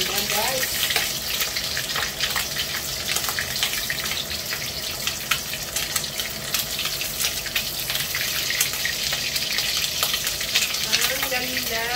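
Bullet tuna (tulingan) frying in a pan, a steady close hiss and crackle of oil running throughout with occasional sharper spatters, a faint voice briefly present underneath.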